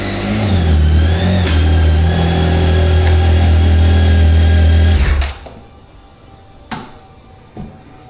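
A motorcycle engine idles and revs steadily at close range, a loud continuous hum that cuts off abruptly partway through, leaving quiet with a couple of faint knocks.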